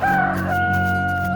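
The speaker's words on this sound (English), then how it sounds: "Now the fight is between hen and a duck." A hen and a duck clash in a farm animal fight, heard as a short, loud burst of fowl cries with a sustained crowing-like call in the foreground.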